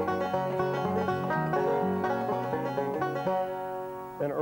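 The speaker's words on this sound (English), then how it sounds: "the early styles of banjo playing started out with two-finger style, which sounded like this." A banjo is picked in the early two-finger style, with bright, twangy plucked notes in a steady rolling rhythm, played close and clear with no talking.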